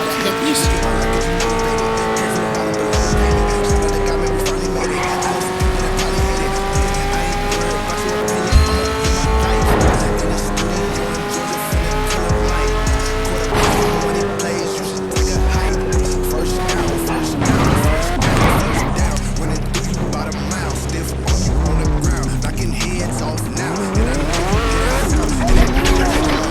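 Car accelerating in the video game Gangstar IV at night, a loud engine revving up and down with tire squeals and skids, while someone talks over it.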